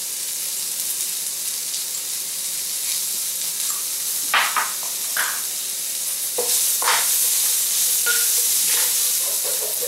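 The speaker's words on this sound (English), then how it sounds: "as the onions begin sweating, we are going to be adding a teaspoon of minced ginger" Onions with minced ginger and garlic sizzle steadily in a hot pan, with intermittent scraping stir strokes over a constant frying hiss and no talk.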